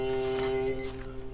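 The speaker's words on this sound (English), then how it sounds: "Oh, right at the buzzer." An end-of-shift buzzer sounds in Papers Please, a loud steady electronic tone that holds briefly, then stops and fades into quieter game ambience.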